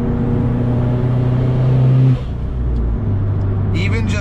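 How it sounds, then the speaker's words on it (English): A 500-horsepower Subaru engine revs hard and loud up close, then drops off sharply as the throttle closes, followed by a lower, steadier engine note. "But the sounds that this car makes"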